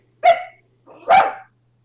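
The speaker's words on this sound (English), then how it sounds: "The dogs are barking out here." A dog barks twice indoors in a house, each sharp, close and loud bark separated by a short pause, with no talking over it.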